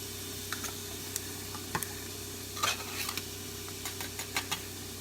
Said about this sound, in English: Stir that up real quick